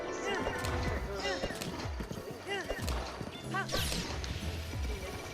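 Horse galloping in the video game Breath of the Wild: rapid, loud clip-clop hoofbeats run throughout, with whinnying cries and a sharp crash near the end, and voices mixed in.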